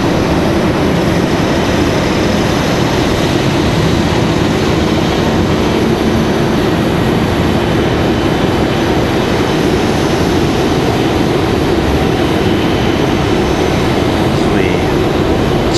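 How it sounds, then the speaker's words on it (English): A United Airlines Airbus A320-200 arriving from Chicago at Raleigh-Durham International Airport gives a steady, broad jet roar that holds at an even loudness for the whole stretch, with no clear rise or fade. "United 1358, another one coming in from Chicago. This one's going to be an A320-200."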